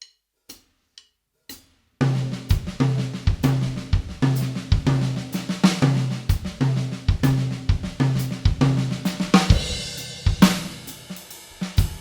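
Drum kit phrase in 4/4 built from two groups of nine strokes and a six-stroke roll, opening with a few count-in clicks and then a dense, driving pattern of accented hits and crash cymbals, loud and close with no talking.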